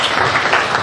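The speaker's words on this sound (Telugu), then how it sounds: "గట్టిగా చప్పట్లు కొడతా." Audience at a Telugu Christian sermon clapping loudly, a dense and steady wash of applause filling the whole brief moment with no voice over it.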